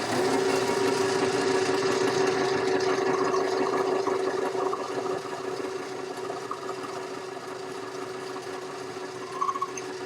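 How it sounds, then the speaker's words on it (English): A metal lathe hums and whirs steadily while turning down a diameter to remove a thread on a tool clamping screw, with a constant tonal drone that softens slightly midway and continues alone. "now I'll go in and turn a diameter to remove the thread"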